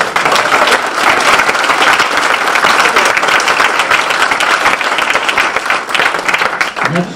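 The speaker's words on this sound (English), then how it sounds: "So now we can applaud." A room full of attendees at a chamber of commerce officer installation ceremony applauds together in steady, dense clapping that holds loud and even for about seven seconds, with a few faint voices mixed in beneath it.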